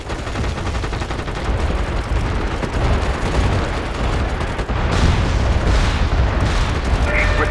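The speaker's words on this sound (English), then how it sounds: "We've got incoming artillery fire." Artillery fire in a video game, with dense rolling booms and explosions mixed with gunfire, continuous and loud throughout, and a heavier blast about two-thirds of the way in.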